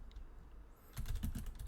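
Someone types a message on a computer keyboard, a quiet pause giving way to a quick run of close, crisp key clicks in a rapid, uneven rhythm.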